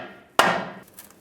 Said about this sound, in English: Take the cross member, line that up, and just hammer it in place.